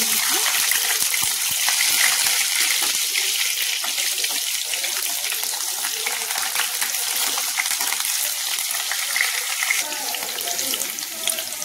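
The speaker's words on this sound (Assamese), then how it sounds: "এয়া তেল গৰম হৈ গল আৰু ইয়াতে মই এয়া পিয়াজ এটা" Onion frying in hot oil in a wok, a dense, continuous loud sizzle and crackle throughout.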